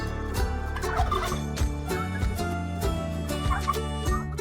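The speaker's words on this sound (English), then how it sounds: "I see 3 turkeys." Several turkeys gobble in repeated warbling bursts, close and moderately loud, over steady background music throughout.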